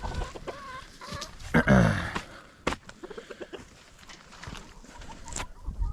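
Chickens in a mobile coop during mating, with a burst of clucking and squawking from a Rhode Island Red-type hen as a rooster mounts her, plus scattered nearby fowl calls and rustling; no talk.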